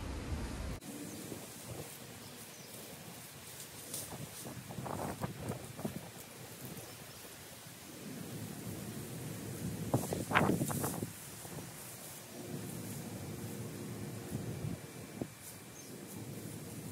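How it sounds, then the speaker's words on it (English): Strong gusty wind blows across a backyard urban vegetable garden on a hot day, a steady rushing roar with louder swells and buffeting against the microphone, heard alone with no voices. "it's another very windy day. We've had 25 mile an hour gusty winds for days"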